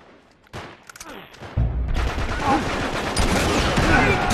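Gunfire in the Uncharted 3: Drake's Deception video game starts with a few sharp shots, then swells into a continuous loud barrage of automatic fire that holds steady to the end.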